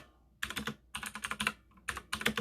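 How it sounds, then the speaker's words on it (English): Quick bursts of computer keyboard typing, close and fairly quiet, with short pauses between runs of keystrokes. "You can hear me typing."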